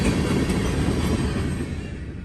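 A long freight train hauled by INRD GP diesel locomotives rumbles past steadily and loud, with a continuous low roar of railcars fading slightly toward the end, no voices.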